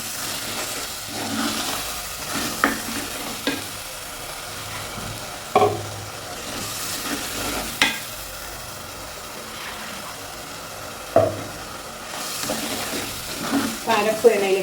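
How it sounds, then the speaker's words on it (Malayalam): Ground spice paste for a tuna curry fries in oil in a pan, a steady close sizzle broken by sharp spatula knocks and scrapes at irregular intervals. "അരപ്പ് എണ്ണയിൽ കിടന്നൊന്ന് മൂത്ത് വന്നിട്ടുണ്ട്"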